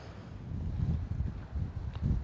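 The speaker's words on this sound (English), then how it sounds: "But damn, see, still that wind." Wind buffeting an outdoor microphone, a steady low rumbling rush with gusty surges lasting the whole moment, no voice.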